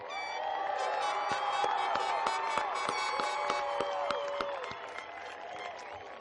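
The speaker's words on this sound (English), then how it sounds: "if I could have one last round of applause for the class of 2016" Applause and cheering from a crowd of spectators for a graduating class at a high school graduation ceremony, a steady dense wash of clapping with whoops, holding strong for several seconds before easing slightly.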